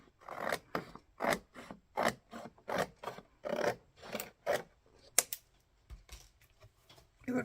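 Scissors cutting card to make an envelope: a quick, close series of crisp snipping cuts in a steady rhythm, about a dozen in all, followed by a few softer rustles of paper.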